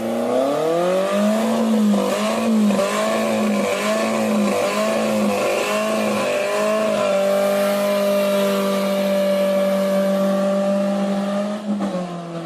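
A drift car's engine revs in a rapid rising-and-falling pattern that wavers as the clutch struggles, then settles into a loud sustained drone; close and dominant throughout.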